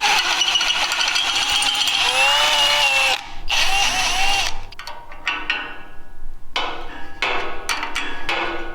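A power drill with a step drill bit whines and grinds through metal on a trailer in sustained bursts, then stops and starts with short clanks and rattles of tools nearby.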